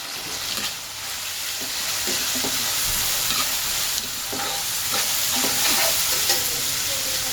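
Shahjeera, fennel and green chillies fry in hot oil for Kashmiri matar pulao, a loud, steady sizzle with spoon scrapes and stirring clatter throughout.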